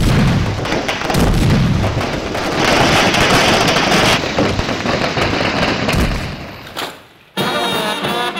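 Firecrackers burst in a loud, dense, rapid barrage of cracks and bangs close by. The volume drops briefly near the end before the crackling resumes.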